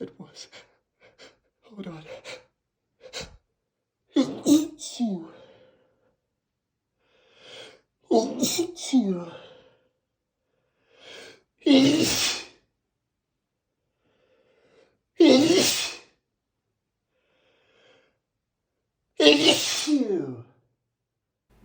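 Several human sneezes at a job interview, each a sharp gasping intake followed by a loud burst, spaced a few seconds apart with quieter breaths between; a voice speaks briefly.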